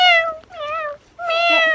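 A person imitates a cat with three drawn-out, nasal meows in a row, loud and close, with short gaps between them.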